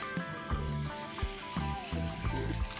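Chopped red onions sizzling in hot oil in a pan while cooking a squid masala, a steady frying crackle with several rhythmic scraping stirs, moderately quiet and close.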